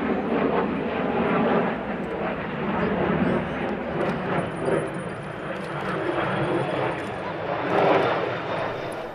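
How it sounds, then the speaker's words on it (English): A Yak-130 military jet trainer, carrying ordnance under its wings at an air show at Zhukovsky, roars past in a steady, loud engine drone that swells and eases over several seconds. "time for a military jet trainer, the Yak-130"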